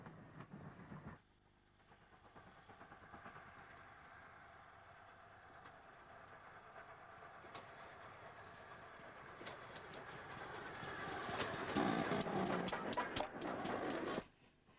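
GWR 2800 class steam freight locomotive no. 2857, built in 1918, working on the Severn Valley: a low rumbling run that builds gradually, with rail clatter and sharp chuffs rising near the end before an abrupt cut, heard moderately close.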